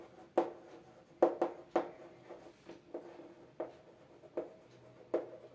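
Chalk or marker strokes on a classroom board during a science lesson sound as a series of crisp, separate taps and scrapes, close and fairly faint, in an irregular rhythm with no talk over them.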